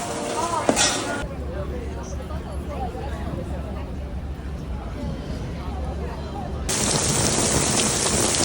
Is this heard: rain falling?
yes